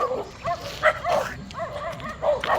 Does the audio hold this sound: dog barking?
yes